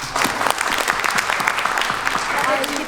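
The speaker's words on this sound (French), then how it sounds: "Applaudissez les gens qui trouvent que la vie c'était mieux avant." Audience applause at a comedy festival, a steady dense clatter of many hands clapping close and loud for nearly three seconds, with scattered crowd noise mixed in.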